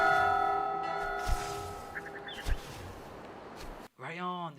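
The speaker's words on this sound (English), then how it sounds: "the sound of the bells soothes the cloud" Bells chiming in the whimsical gnome adventure game Nubarron, soft tonal rings over layered game music with light knocks, followed by a brief voice near the end.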